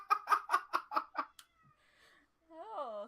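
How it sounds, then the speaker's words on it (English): Pet cats yowling indoors: a rapid run of six loud, wavering cries followed by a faint pause and a drawn-out, rising and falling wail close by. "so my cats have decided to start like yowling, like just yelling"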